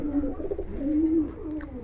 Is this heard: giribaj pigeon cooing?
yes